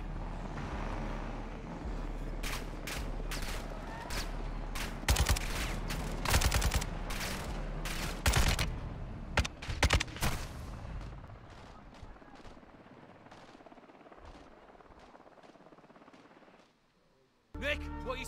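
Light machine gun fire in the Call of Duty: Modern Warfare II campaign, with loud bursts of rapid shots and explosive cracks over a steady rumble, followed by a quieter stretch and a sudden cut near the end.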